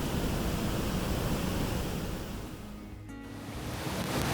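Attukad waterfall in Munnar in strong monsoon flow, a dense, continuous roar of falling water that dips briefly and then swells again, with no voices.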